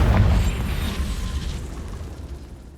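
A Confringo fire spell blast in the game Hogwarts Legacy, a loud booming burst up front that rumbles and decays over a few seconds, with no voices over it.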